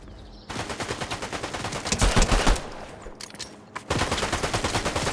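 Rapid automatic gunfire in the Avatar update of an online shooter game, with dense close bursts of shots, a short lull, then another sustained loud burst to the end.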